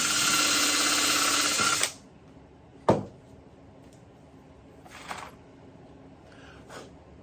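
A power drill whirs loudly for about two seconds while pre-drilling wood, then stops, followed by a few sharp clicks and light handling noises.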